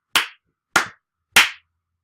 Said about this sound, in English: if I clap